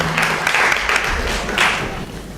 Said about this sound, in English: Let's give our three adjudicators a big round of applause.